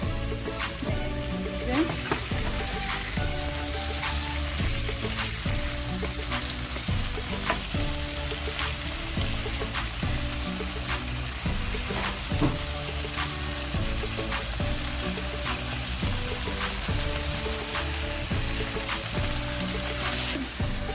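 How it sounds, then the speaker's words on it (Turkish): Onions, peppers, garlic and tomatoes sauté for Turkish menemen, a steady close sizzle and crackle of frying running the whole time with faint stirring scrapes, no talk. "Soğan ve biberlerimizi, sarımsağımızı bu şekilde soteleyelim."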